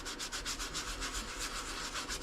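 Hand sanding to expose glass, a steady rhythmic scratchy rubbing with regular back-and-forth strokes, close and continuous.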